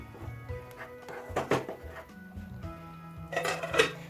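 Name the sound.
stirring fish curry in a pan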